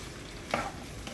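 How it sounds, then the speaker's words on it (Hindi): Okra (bhindi) frying in oil gives a soft continuous sizzle, with a brief stirring scrape in the middle of the short stretch. "सबसे पहले हम भिंडी को फ्राई कर लेंगे। इसमें हम भिंडी ऐड कर लेते हैं।"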